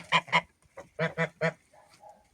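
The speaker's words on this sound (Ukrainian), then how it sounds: "Так що такі ось гуси гарнючі" Domestic geese honk in a yard, two loud calls, then a quick run of three more, followed by a softer, lower trailing call.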